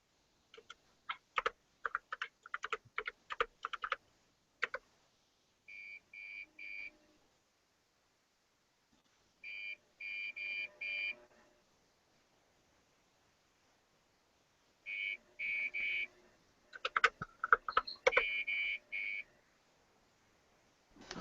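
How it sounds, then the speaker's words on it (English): Short electronic beeps in small bursts from a TRS-80 computer's disk emulator during drive access, separated by pauses, mixed with clicking and ticking mechanical sounds nearby; no voices. "What is making that beeping noise when it accesses the hard drive emulator?"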